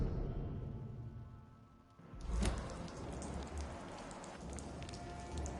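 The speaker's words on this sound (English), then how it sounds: "Quit making me stand around here in the rain." Steady rainfall in the video game Vampyr, a soft continuous patter of drops on surfaces that swells louder after a couple of seconds, with scattered individual drip hits over the wash.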